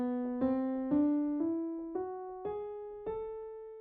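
An ascending melodic minor scale plays as eight smoothly rising sustained notes, each with a soft attack and steady pitch, close and clean, with no voices.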